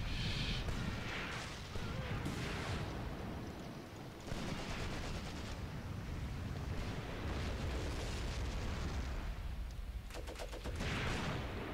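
Artillery shells burst in a Graviteam: Mius Front battle, a dense barrage of booms and crackling blasts rolling continuously with sharper cracks near the end, loud throughout.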